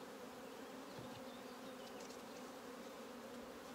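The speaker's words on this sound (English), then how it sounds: "It's full of bees." Honeybees drone steadily inside a nucleus hive box, a dense, continuous buzz at low level with no voices over it.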